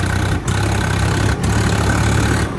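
Tractor engine running on a country road, a loud, steady low rumble with constant mechanical hum, briefly dipping twice, no talk over it.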